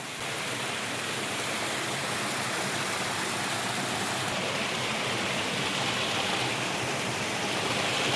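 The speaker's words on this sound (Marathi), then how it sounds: "मयापासून जवळ असलेल्या ह्या धबधब्यापाशी आपण आलोय, जो जयंती माता मंदिर परिसरामध्ये आहे" A waterfall near the Jayanti Mata temple by the Narmada river pours with a steady, dense roar of rushing water that stays constant and unbroken from start to finish.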